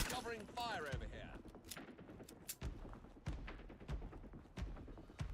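Gunfire in a video game, a run of sharp repeated shots and thumps spread across the clip, with some voices and game sounds mixed in.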